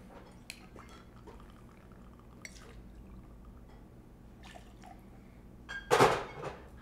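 Vanilla vodka poured for a smashed pumpkin martini, a short, fairly loud splash of liquid near the end after a few faint drips and small clinks.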